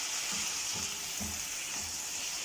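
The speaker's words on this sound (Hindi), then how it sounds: "और सब्जियों को अच्छी तरह इसमें पका लेते हैं।" Vegetables and chicken sizzle steadily in a hot pan for a chicken shashlik dish, with a continuous close frying hiss and a few soft stirring clunks, no voices.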